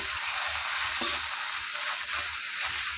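Ginger garlic paste fries with browning onions in a pan, giving a loud constant sizzle under soft scraping stirs.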